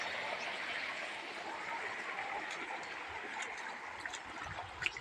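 Irrigation water flows and trickles through channels as it is diverted in a farm field, a faint steady rushing with small gurgles and a brief knock near the end.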